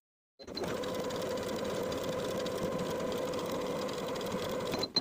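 Sewing machine running steadily while edge stitching the front skirt piece of a dress along its finished edges, a continuous close mechanical whir for nearly five seconds with no talk.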